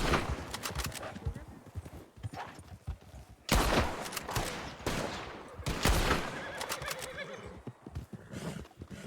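Gunshots ring out in Red Dead Redemption 2 (RedM) during a wolf encounter on horseback, several sharp bursts in quick succession mixed with horse whinnies and hooves, with someone talking in between.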